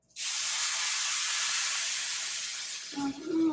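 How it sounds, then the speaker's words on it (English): A loud, steady hiss of sizzling in a hot pot while cooking curry chickpeas and potatoes bursts in and holds, fading slightly near the end as a brief voice sounds. "Listen to this sizzle. This is what you want to hear."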